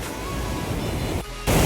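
Water rushes from an open dam in a broad, roaring wash of noise, steady and close, with a brief dip near the end before the torrent surges back louder.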